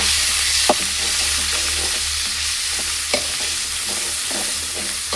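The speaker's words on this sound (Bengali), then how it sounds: "প্রথমে তেলটা দিয়ে দিলাম, পেঁয়াজ রসুনটা দিলাম" Onion and garlic fry in oil in a cooking pot with a loud, steady sizzle. A few sharp stirring clicks sound over it, and no one speaks.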